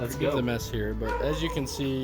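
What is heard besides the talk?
dog barking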